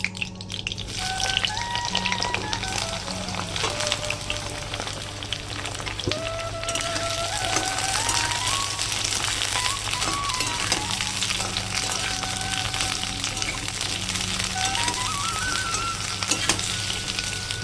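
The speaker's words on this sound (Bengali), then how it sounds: "এই তেলের মধ্যে বেগুনটা ভেজে নেবো" Brinjal fries in darkened oil with a loud, dense, rain-like sizzle that runs steadily throughout, while a tonal hum with stepping pitches plays underneath.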